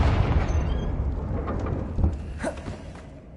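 A Confringo fire curse blast in Hogwarts Legacy gives a heavy, rumbling low boom that fades out, with a few crackling bursts in the tail, loud and close with no talk over it.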